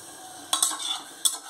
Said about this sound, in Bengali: অল্প একটু জল দিয়ে ভালো করে নেড়ে নেব